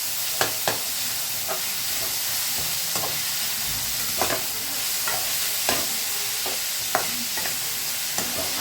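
Poha being sautéed and stirred in a pan, a steady close sizzle under repeated scraping and clinking strokes of a spoon at irregular intervals, with no talking.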